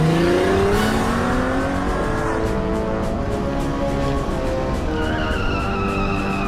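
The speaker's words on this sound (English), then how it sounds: "With the flick of a switch, he turned on the Batmobile's booster rockets and took off" The Batmobile fires its booster rockets and speeds away: a loud, sustained engine roar with rising revs and a whooshing surge carrying through, heard alone.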